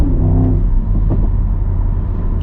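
Mercedes-AMG GT63 coupe, an 816 hp V8 hybrid, roaring at full throttle from inside the cabin, with a dense, loud, continuous engine rumble and rising revs.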